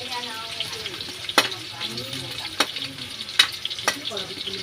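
Potatoes frying in a pan with steady sizzle and crackle, broken by several sharp clinks of a utensil stirring against the pan, close and moderately loud, with faint talk in the background.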